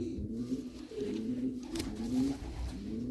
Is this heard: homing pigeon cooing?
yes